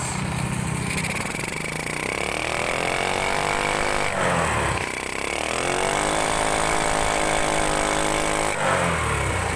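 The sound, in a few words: motorcycle engine revving as throttle opened, carburetor spraying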